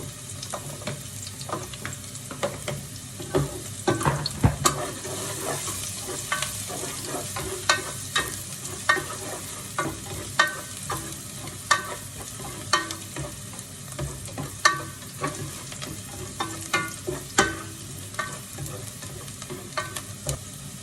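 Garlic sautéing in a pan for pinakbet gives a close, continuous sizzle with repeated sharp clinks and scrapes of stirring at an uneven rhythm, with no talking.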